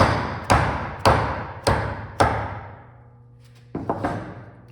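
Chisel struck with a mallet to chop straight down into wood while cutting a Chinese/Japanese-style mortise and tenon joint: four loud, evenly spaced thuds, then a quieter pause and a short cluster of lighter knocks, close up.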